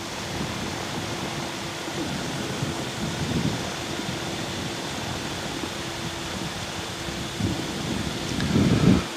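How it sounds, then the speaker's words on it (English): Steady, roaring wind buffets the microphone aboard a gyrocopter, with low rumbling gusts swelling louder near the end. "It's horribly windy."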